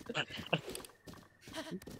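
A horse gallops in the video game Zelda Breath of the Wild with quick clip-clop hoofbeats and a short whinny, mixed with game sounds while a player talks excitedly over them.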